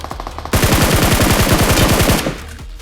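A rapid burst of automatic gunfire in BGMI mobile battle-royale gameplay lasts close to two seconds. The shots are loud and evenly spaced, with quieter game ambience before and after and no voices.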